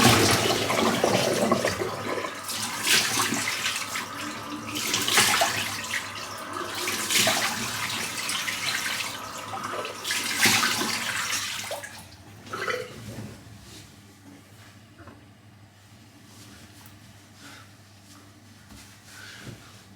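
Tap water running and splashing while a synthetic shaving brush is rinsed in a sink, loud and fluctuating at first, then fading to a quieter trickle.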